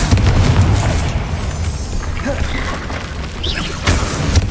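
A Confringo fire spell in Hogwarts Legacy bursts into booming explosions, with a heavy impact at the start, crackling debris and another blast near the end.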